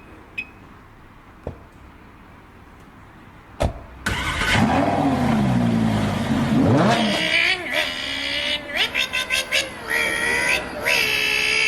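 A car accelerates hard, heard as playback through speakers: near silence with a few clicks, then a loud engine roar sweeping upward through gear changes and pulsing revs until the end.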